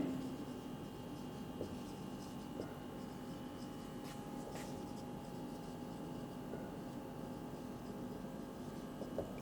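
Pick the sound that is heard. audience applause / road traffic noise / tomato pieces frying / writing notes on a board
writing notes on a board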